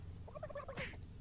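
A turkey gobbles in the turkey-catching minigame of Doom 3 BFG Edition, a single faint, quick warbling gobble over a low game background hum.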